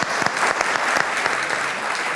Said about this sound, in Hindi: तालियां, जबरदस्त।